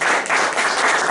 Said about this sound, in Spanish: Le damos una ofrenda de palmas a nuestro Dios.